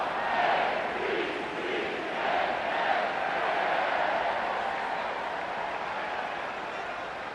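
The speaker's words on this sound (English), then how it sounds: "This crowd alive again." A stadium crowd roars and cheers during a Madden 25 football game between the Eagles and Ravens, a broad sustained swell of noise rising and falling with some clapping mixed in, with a commentator's voice partly over it.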